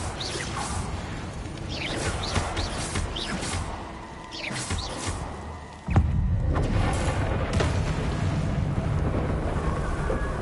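A Bombarda explosion spell bursts in Hogwarts Legacy during a fight against Inferi, a sudden loud boom cutting through whooshing spell effects and rumbling battle noise, followed by a sustained dense roar.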